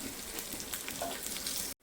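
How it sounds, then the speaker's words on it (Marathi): Green chilli, curry leaves and asafoetida sizzle and crackle steadily in hot tempering oil for dal, a close, continuous fry with small pops, cutting off abruptly at the end. "मिरची कट केली ती टाकून घ्यायची थोडासा कडीपत्ता आणि एक छोटा पाव चमचा हिंग टाकते"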